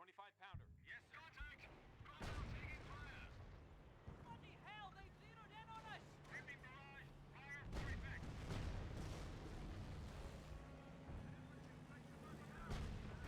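Artillery fire in the game Company of Heroes, with repeated heavy booms and blasts over a continuous battle din, while voices chatter throughout.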